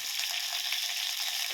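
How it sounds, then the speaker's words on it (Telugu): Green chillies fry in a little oil for mint chutney, producing a short, steady hiss of sizzling close by. "నేను ముందు పచ్చిమిరపకాయలు ఫ్రై చేసుకుంటున్నాను"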